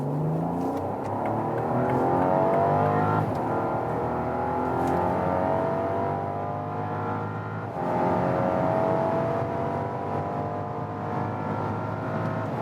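A 600-horsepower, 2.7-ton Rolls-Royce Cullinan Black Badge SUV in sport mode accelerates hard from low speed, its engine note climbing steadily and loudly from the cabin, with a brief gear-change dip midway and no talking.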